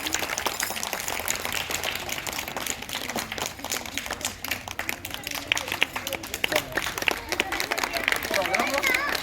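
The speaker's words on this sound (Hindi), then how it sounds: "क्लैप करते रहो।" Groups of people clap at a school Republic Day celebration in Uttarakhand, with dense, uneven applause running throughout under crowd chatter and talking voices.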